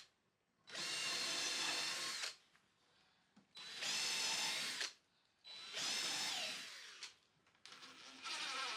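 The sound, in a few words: power drill drilling screw holes in wood bench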